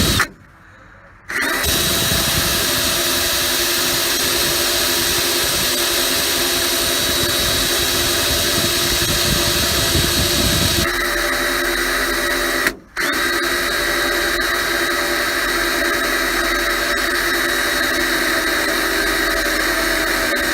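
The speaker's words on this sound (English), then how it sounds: "I got the bigger drill bit. I'm over here and make this hole." A power drill with a larger bit bores through thick steel for a truck cab light install, a loud sustained whine that shifts partway through and stops briefly before resuming, with no talk.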